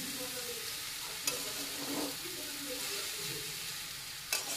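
Chowmein with tomato, ghee, peanuts and chanachur is stirred in a pan. A faint, steady sizzle runs under soft scraping, with a couple of light clicks from the utensil.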